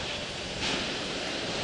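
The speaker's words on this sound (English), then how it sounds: "the sound suppression water system has been activated" Space shuttle launch pad sound suppression water system activating before the STS-130 liftoff of Endeavour, a steady broadband roar of rushing water like surf, continuous with a slight swell partway through.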